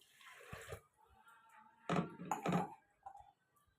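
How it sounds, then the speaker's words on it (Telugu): Water from a pot poured into a pressure cooker holding washed lentils, heard as two short splashing pours close by with quiet gaps between them. "ఒక చెంబు నీళ్ళు పోసుకుందాం."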